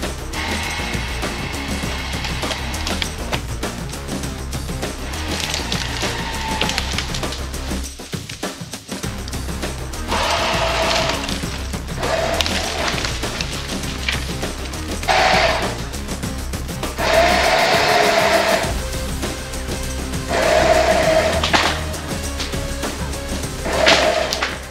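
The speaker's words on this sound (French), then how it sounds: "on a bien fait de l'acheter ce treuil" An off-road 4x4 winch hauls a fallen tree on a French mountain track, its motor whining in repeated bursts over a steady mechanical grind, close and without talk.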